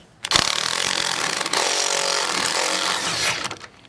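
A power tool, likely an impact wrench, buzzes loudly and steadily for about three seconds as it removes the 13mm top strut nuts on a 2011 Dodge Charger during strut replacement. It starts abruptly and cuts off, with no talking.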